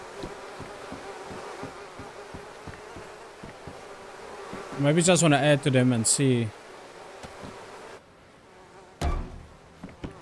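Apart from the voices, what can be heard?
bees buzzing around hives in the video game DayZ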